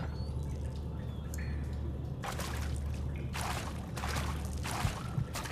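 Water sloshing and dripping in the horror game Amnesia: The Four Horsemen, with soft drips over a low ambient drone and several louder splashing bursts of movement through water.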